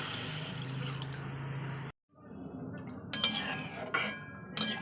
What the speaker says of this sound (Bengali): তো চলুন এবার জল দিয়ে দিই তো দিয়ে দিচ্ছি এক কাপ পরিমাণ জল